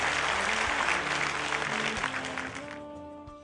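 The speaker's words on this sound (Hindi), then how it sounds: "जोरदार तालियां" Loud applause from an audience at a Human Rights Day program in India, greeting an actress as she arrives; dense, sustained clapping that fades toward the end while a low musical tone emerges beneath it.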